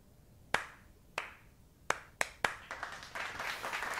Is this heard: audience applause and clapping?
yes